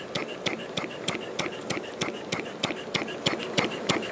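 A homemade steam engine running quietly at low pressure, a quick regular chuffing and clicking about three beats per second, soft and close, steady throughout with no talk.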